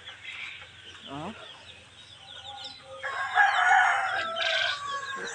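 Chickens cluck and a rooster crows nearby, hungry, the clucking growing louder and busier toward the end.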